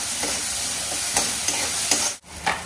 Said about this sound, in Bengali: এরপর দিয়ে দিচ্ছি টমেটো, একটু হলুদ, একটু নুন আর একটু চিনি। এটাকে একটুখানি ভেজে নিই।